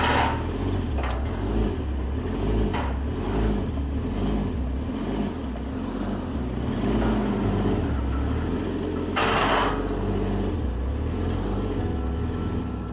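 A Porsche Cayman 981 engine runs at low revs while reversing, a steady close rumbling hum with a pulsing drone and slight rises in throttle, heard without talk.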